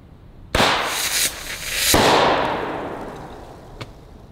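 A .50 caliber primer struck by a BB gun fires with a sharp crack, followed by a second burst and a long fading hiss with a faint pop near the end, loud and close.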